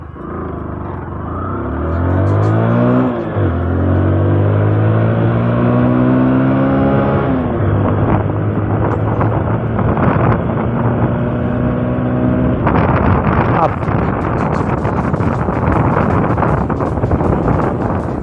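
A Bajaj Discover 100cc motorcycle accelerates hard from a standstill in a 0 to 60 run, its engine climbing through several gear shifts with rising, falling whine under constant loud wind rush, no talking.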